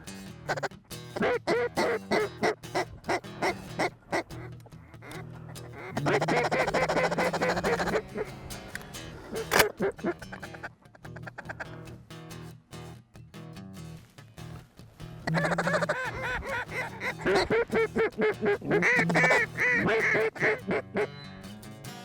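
Repeated quacking of ducks in bursts at a morning duck hunt in Central Kansas, with stretches of dense overlapping calls from a flock, fairly close and loud.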